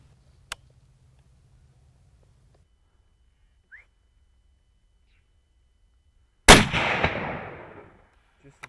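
A single loud rifle shot cracks during a buck hunt on Catalina Island, followed by a rolling echo that fades over about a second after a quiet lead-in.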